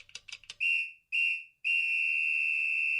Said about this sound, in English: Full-time whistle.